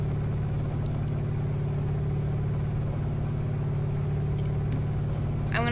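A car engine idles in BeamNG.drive, set up for an IIHS-style crash test: a steady, low mechanical drone at even loudness, with no sharp events until a brief higher chirp at the very end.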